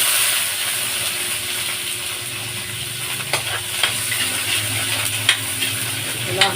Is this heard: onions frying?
yes